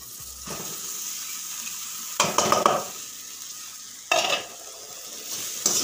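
Poha frying and being stirred in a pan, a soft steady sizzle broken by two sharp bursts of scraping and rattling as the spoon moves through, followed by a brief clink near the end.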